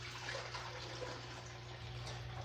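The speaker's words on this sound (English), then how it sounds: "I'm going to fill the carafe about 3/4 full. Pour that in here." Steady rushing of water being poured into a coffee carafe, a continuous close splashing stream with no voices.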